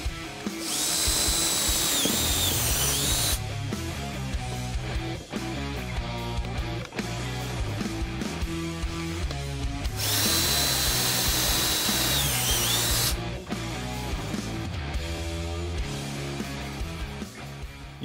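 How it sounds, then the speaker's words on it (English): A power drill bores a 1/4-inch hole through the center rib of an F-150 while a Flex-a-lite electric fan is installed, with a loud, sustained close whine broken by brief load changes. "we're going to drill a 1/4-inch hole right here in order to fish these down through there"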